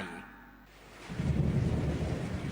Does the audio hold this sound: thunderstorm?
yes